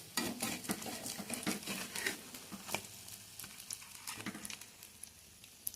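A steel spatula scrapes and turns pakoras frying in a little oil in a steel pan. The spatula clinks and scrapes in a patter over a soft, constant sizzle.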